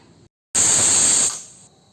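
After a brief silence, a pressure cooker lets out one loud, sharp steam whistle, a piercing hiss that cuts off and fades quickly.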